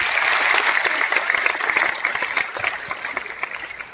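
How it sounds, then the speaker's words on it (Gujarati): An audience at a Diamond hospital program in Surat breaks into loud, lively applause that gradually thins and fades over a few seconds. "એટલે ખૂબ ખૂબ એને તાળીઓથી વધાવો."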